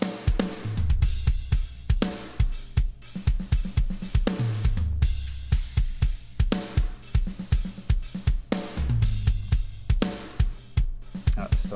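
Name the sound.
raw drum bus mix playback in prog metal mix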